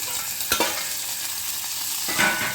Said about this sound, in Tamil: அது கொஞ்சம் வதங்கட்டும் நல்லா எண்ணெயிலேயே